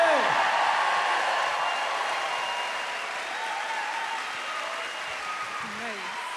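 Live theater audience in Chicago's Athenaeum Theater applauding and cheering, a broad wash of clapping that swells at the start and stays steady, with whoops and voices mixed into the crowd noise.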